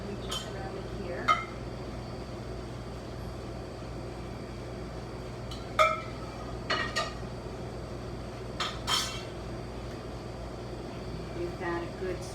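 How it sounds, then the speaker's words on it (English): A ladle clinks against the pot as stock, peas and pea shoots go into a spring pea risotto. Scattered light metallic taps and knocks sit over a steady room hum, with talking in between. "we will put in our peas and pea shoots, and of course a ladle of stock"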